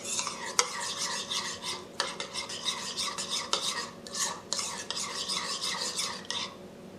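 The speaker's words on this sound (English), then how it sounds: "Stir both ingredients until a paste is formed and set aside." Two ingredients being stirred together into a thick paste in a bowl, a steady run of close scraping, rasping strokes with no talk over them.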